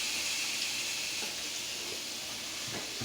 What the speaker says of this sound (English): let's get that sizzle going